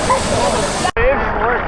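Rushing water from a waterfall at Blizzard Beach water park, a steady broadband spray close by with a brief dropout, while people talk and exclaim over it.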